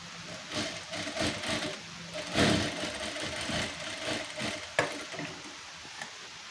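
Sewing machine stitching a salwar waistband, quiet bursts of rapid mechanical whirring that start and stop, with a sharp click near the end and no talk.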